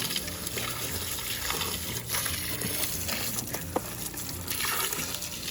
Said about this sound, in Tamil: சாயங்காலம் செடிக்கு தண்ணி ஊற்றுறது